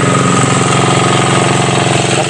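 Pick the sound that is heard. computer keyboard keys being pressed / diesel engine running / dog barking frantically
diesel engine running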